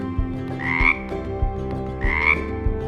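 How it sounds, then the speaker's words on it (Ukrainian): A frog croaks repeatedly, a steady rhythmic series of raspy calls with two brighter rising trills, close and clear with no talking. "Жабаня каже Ква, ква, ква."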